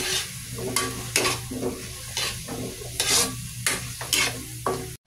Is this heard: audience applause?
no